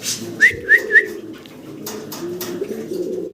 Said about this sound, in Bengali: এই যে ঘুরে ঘুরে ডাকতেছে নর